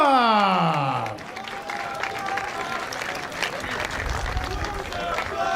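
A crowd at a professional boxing event breaks into steady, distant applause after the bout is stopped, following a brief announcer's voice at the start.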